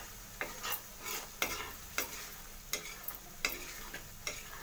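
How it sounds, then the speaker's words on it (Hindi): Chhole masala being fried and stirred in a pan until the oil separates, a steady low sizzle punctuated by regular scraping strokes of a spoon, about two per second. "और इसको बहुत अच्छे से हमको भून लेना है जब तक मसाला हमारा अच्छे से ना पक जाए"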